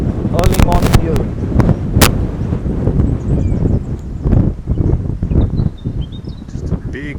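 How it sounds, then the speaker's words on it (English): A big gust of wind rushes and buffets the microphone outdoors, loud broadband roar with sharp blasts early on, continuing under a person talking throughout. "Just a big gust of wind there."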